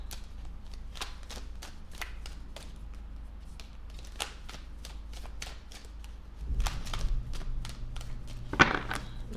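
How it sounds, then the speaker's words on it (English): Tarot cards being riffled and shuffled in quick repeated bursts, crisp flutters up close, followed by a louder handling thump near the end. "We'll do a couple more shuffles"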